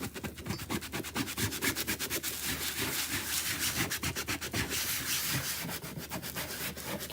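Steady, close rubbing and scrubbing as excess chalk paste is worked off a stencil, a continuous rhythmic back-and-forth with dense repeated strokes and no pauses.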